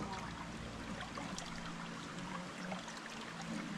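Water trickles over pebbles in a shallow little creek, a steady, close, soft wash with no voices.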